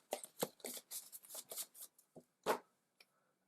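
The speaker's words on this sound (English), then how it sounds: "Shuffle these in." Cards for the Everdell board game being shuffled by hand: a series of quick riffling and sliding bursts, close and crisp, ending with a few lighter taps and no talk.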